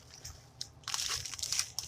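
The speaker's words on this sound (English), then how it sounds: "Pour a few crumbs in there to suck up some of that milk." Crushed Ritz cracker crumbs are poured into a milky squash casserole, making a soft, dry crunching and crackling that grows busier partway through. It is faint and close, with no talk.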